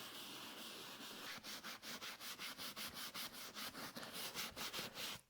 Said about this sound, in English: agitate again with the Bruchel brush, working in either a circular motion or straight motion to remove dirt